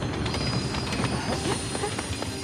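An animated passenger train rolls in with steady rail clatter and brief wheel squeals, close and continuous for a couple of seconds.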